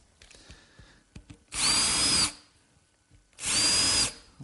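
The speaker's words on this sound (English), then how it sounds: "Just drilling a pilot hole at a slight angle." A power drill boring a pilot hole at a slight angle into wood for a dining table pedestal base, two loud, close bursts of whirring with a short pause between, faint handling noises before.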